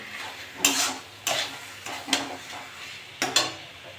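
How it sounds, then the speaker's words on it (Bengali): Stirring taro greens with prawns in a cooking pan, a spoon scraping and tapping the metal in separate strokes about every half second, close and clear with a faint sizzle beneath. "কচু শাকটা এরকম নেড়ে চেড়ে এরকম শুকনো শুকনো মতন করতে হবে।"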